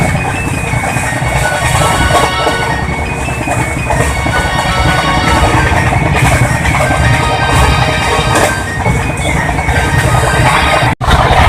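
Moving long-distance train on a Guwahati to Bangalore journey, loud continuous rumble and clickety-clack of wheels on track heard from inside the carriage, with a brief dropout near the end.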